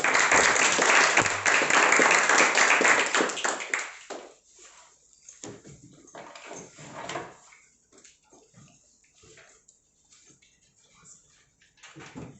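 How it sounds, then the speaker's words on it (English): Loud, dense clapping from a speakers forum audience for the first few seconds, then fading out into scattered murmurs and a few stray claps. "with a round of applause, please"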